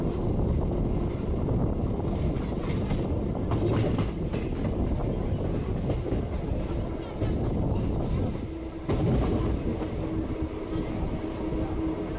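A passenger train rumbles along the rails with a steady loud roar and rattling, wind buffeting the microphone, and a brief dip before the noise resumes.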